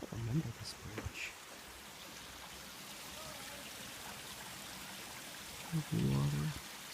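A forest park stream flows with a soft, steady trickle and gurgle, faint and continuous, while brief voices and footsteps break in near the start and end.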